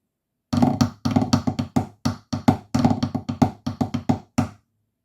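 Illawalla's first and second sections of the marine snare solo played back to back, a steady stream of dry, sharp strokes in repeating grouped phrases, close and with no voices.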